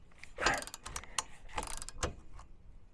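A manual ratchet wrench tightens large bolts on a rugged Cybertruck bumper, a few close clicking, grinding bursts with short pauses between strokes.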